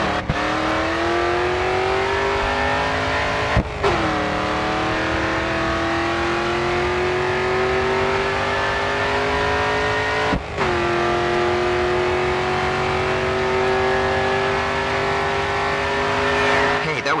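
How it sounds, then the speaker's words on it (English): A GRID 2 race car held at full throttle on the final straight, its engine a loud, steady rising whine broken by two quick gear shifts, each followed by a climbing roar. "All right, full throttle now"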